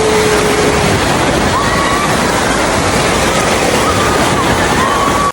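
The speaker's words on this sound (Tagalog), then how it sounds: "So yan na yung wave." An artificial wave surges through the Azure Beach Club wave pool, a loud, continuous rushing wash of churning water with faint whistle tones on top.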